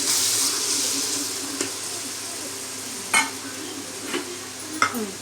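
Bachelor biryani masala with curd sautéed in oil until the oil separates, a steady close sizzle with a few sharp clinks and scrapes of a spoon against the pot.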